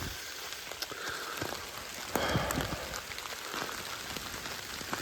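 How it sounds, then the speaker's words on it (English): Steady light to moderate rain on a wooded trail at Shiloh, across from Bloody Pond, a continuous close hiss of drops pattering on leaves and ground, with occasional louder spatters and no talking. "This is, I would consider it a steady rain, light to moderate."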